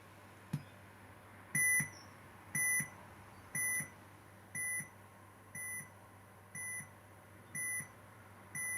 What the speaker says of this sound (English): So it starts off with that single beep, starts off loudish, gets quieter, and then ramps back up again.